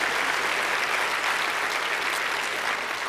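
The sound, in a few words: applause from the audience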